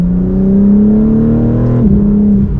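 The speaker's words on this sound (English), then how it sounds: "we have some very aggressive downshifts" BMW M4 CSL exhaust on an aggressive downshift: a loud, steady engine drone that abruptly jumps in pitch near the end as the gear drops, heard from inside the car with no talking.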